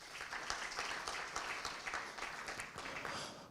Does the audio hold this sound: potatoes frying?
no